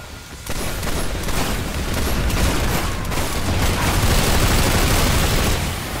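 A grenade blast followed by sustained gunfire in PlanetSide 2, a dense, loud, continuous roar of shots and booms that barely lets up.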